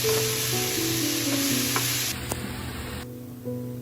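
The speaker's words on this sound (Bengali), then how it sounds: "এবার শাকটা আমি অ্যাড করে দিলাম ভালো করে নাড়াচাড়া করছি" Water spinach (kolmi shak) fried and stirred in a pan gives a loud, continuous sizzle with scraping stir strokes, then eases slightly toward the end.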